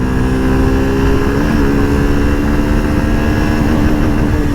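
Suzuki Gixxer SF 150 motorcycle pulling hard through first gear, a loud, steady engine drone with a rising note held close for the whole stretch.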